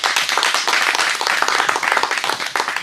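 A lecture-hall audience breaks into steady, dense applause, many hands clapping loudly and continuously throughout with no voices over it.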